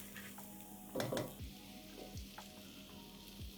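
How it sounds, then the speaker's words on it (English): Curry paste sizzles and fries in oil in a pan, a quiet continuous crackle with occasional soft stirring scrapes and clinks, no talking. "Let's cook this paste till the oil starts releasing the side of the pan."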